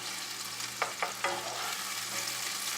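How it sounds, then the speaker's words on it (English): Pork marsala medallions sizzle in a frying pan as it is kept moving, a steady close hiss broken by a few quick scraping stirs, with no talking. "I like to keep the pan moving so nothing burns"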